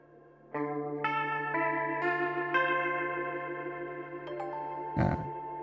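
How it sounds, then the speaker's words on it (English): Eerie sustained synthetic string-like tones layered with chorus and echo, new notes entering every half second, ending with a sharp noisy burst. "I need like scary string noises, and I've got those in here"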